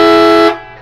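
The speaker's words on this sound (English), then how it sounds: "now we're gonna try the air horn" A single loud, sustained blast of a truck air horn with a strong harmonic tone, cutting off abruptly after about half a second.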